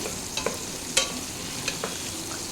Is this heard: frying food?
yes